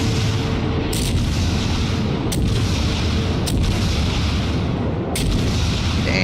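Naval guns of the Tier IV American cruiser Phoenix firing in World of Warships: four heavy booming salvos, irregularly spaced, over a constant loud rumble.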